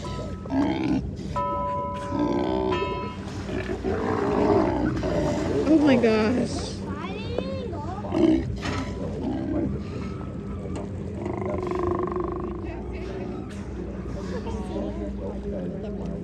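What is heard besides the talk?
sea lions roaring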